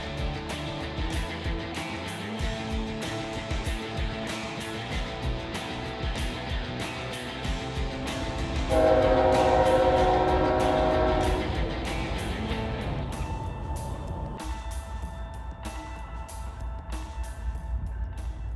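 A CSX freight train runs through town, its horn blasting loudly in the middle over the rumble of the engine and cars. Steady clickety-clack of wheels on the rails follows as the train keeps passing.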